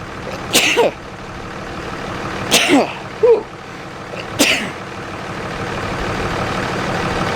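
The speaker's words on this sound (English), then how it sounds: "I'm gonna sneeze." Three sharp sneezes spaced a couple of seconds apart, close and loud, inside a fifth-wheel RV, over a steady low engine-like rumble.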